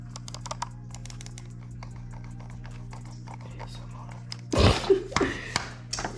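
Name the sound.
typing on a computer keyboard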